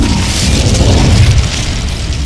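An Incendio fire spell blast in the video game Hogwarts Legacy makes a loud, steady roaring rumble that lasts about two seconds without a break.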